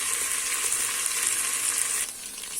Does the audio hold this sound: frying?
yes